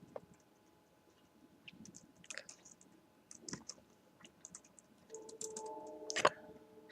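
Computer keyboard typing while code is written: scattered clicks and short bursts of keystrokes, close and fairly quiet, with a sharper clatter near the end and no one talking.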